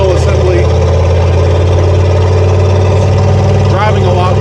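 A vehicle engine fitted with new spark plugs runs close and loud at a steady idle, a continuous mid-low drone with a faint rising whine near the end.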